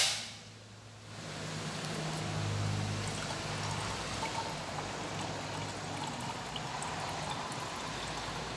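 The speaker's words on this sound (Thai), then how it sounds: "ต่อไปนะครับเราก็จะเทน้ำมันดีเซล เราลงไปเลยนะครับ" Diesel fuel pours steadily into a container for homemade biodiesel, a continuous close, quiet liquid stream that runs throughout after a brief start, with no voices.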